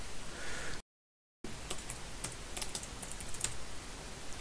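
Quick, light computer keyboard keystrokes tap in an irregular run as a folder name is typed in a club management web app, close up over a steady background hiss, after a brief dropout.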